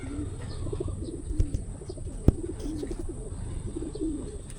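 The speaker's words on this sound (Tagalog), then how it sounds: "24 na yung kalapati natin dumarating" Homing pigeons return to the loft after a training toss at Munoz, Nueva Ecija, cooing repeatedly nearby, with a couple of sharp clicks or wing claps cutting through.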